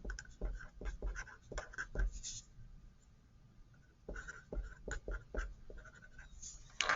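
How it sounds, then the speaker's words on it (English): A pen or pencil scratches out numbers by hand on paper in quick, short strokes, faint and close, with a brief pause before the writing picks up again. "I'm going to go ahead and write those down"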